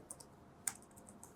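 Java code typed on a computer keyboard, a few sparse, faint key clicks with one sharper tap in the middle against quiet room noise.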